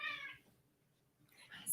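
A house cat gives two short, soft meows separated by a quiet pause, heard faintly at a distance in a calm indoor room.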